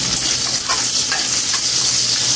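Garlic and onion hitting hot oil in a pan, a loud continuous sizzle and hiss with a few faint stirring clicks, close and steady.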